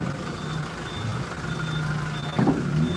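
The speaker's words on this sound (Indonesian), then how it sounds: "kendaraan yang masuk harus mundur atau atrek" A truck or bus reverses onto a ferry at the Tigaras crossing on Lake Toba. A steady idling engine runs under evenly spaced reversing beeps, with a brief hiss like an air brake near the end.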